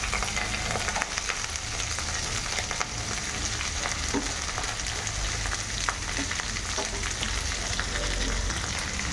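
Okra fries with onions, dried chillies, mustard seeds and curry leaves, producing a loud, constant close sizzle with occasional stirring scrapes and pops throughout.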